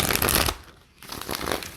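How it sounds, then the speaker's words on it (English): A deck of tarot cards being shuffled by hand: a papery riffling burst, a short pause, then another flurry of card noise, close and fairly loud with no talk. "I'm going to shuffle the deck 3 times"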